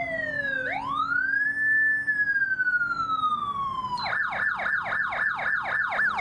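Loud Unitrol police siren on a 1980-1982 police car nearby, gliding through a long falling wail before switching into a fast, repeated yelp pattern.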